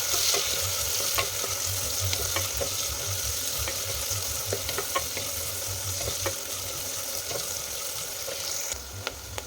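Food frying in a pan with a little salt added, a steady close sizzle with occasional stirring scrapes and clicks throughout, alone without talk.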